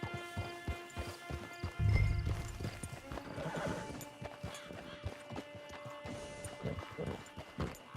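Horse hooves clip-clop at a steady walking pace in Red Dead Redemption 2, with a loud neigh partway through and game music underneath.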